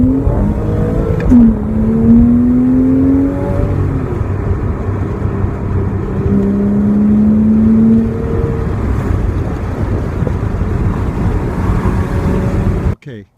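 A Porsche Cayman S fitted with an IPD plenum and a GT3 82mm throttle body, heard from inside while driving, its engine note droning loudly and rising and falling through the gears, with brief talk over it.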